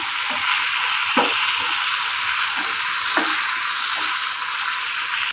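Onion and brinjal sauté with salt in a pan, giving a steady, loud sizzle with a few soft spatula scrapes and stirs over a constant frying hiss.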